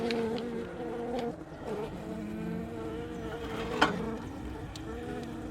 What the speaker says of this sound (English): There's a bee I gotta move.